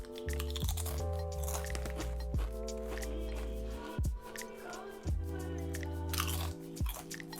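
Spicy nacho Doritos tortilla chips being bitten and chewed close to the mic, loud brittle crunches recurring every second or so over a steady chewing texture.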